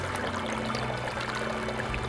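River water flows steadily along a park riverside in Wales, a continuous pouring, rushing wash with no clear breaks, moderately loud and close.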